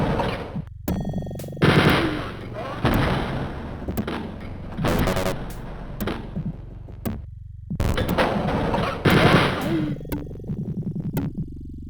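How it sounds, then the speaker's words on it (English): Chain gun fire in Wolfenstein 3D, heard as repeated loud bursts of rapid shots separated by short pauses, close and harsh, alone without talk. "I'm wondering if I ever use like too much of the chain gun."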